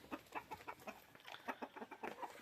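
Chickens on a hen farm cluck in quick, soft, irregular bursts, close by and fairly quiet.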